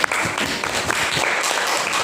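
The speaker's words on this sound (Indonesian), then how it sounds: "Tepuk tangan untuk kelompok 4." Applause from a classroom audience for a student group after their presentation, a dense steady patter of many hands clapping throughout, fairly loud and close.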